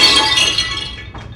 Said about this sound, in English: A dish breaking.